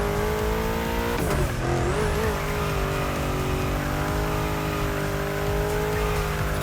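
A car in The Crew Motorfest holds a steady, loud drift, its engine droning in a sustained high whine with squealing tires and a brief scrubbing skid early on.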